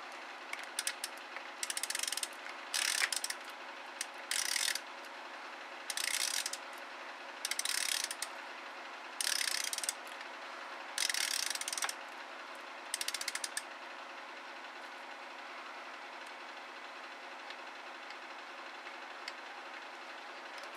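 A ratchet tightening Cummins common rail injectors on an engine, with a series of bursts of rapid clicking in uneven pulses over a steady low hum, then falling silent.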